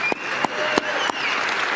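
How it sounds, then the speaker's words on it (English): An audience of troops at a military base applauds, with dense and steady clapping that is loud and close throughout a short stretch, along with a few sharper individual claps. "Maybe we should give them a round of applause"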